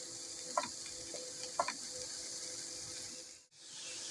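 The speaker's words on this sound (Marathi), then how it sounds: "आता आपण हा पालक पण छान परतून घेणार आहोत." Finely chopped spinach sautés in a pan for palak puri, giving a soft, steady sizzle with a couple of light clicks from stirring, quiet and close.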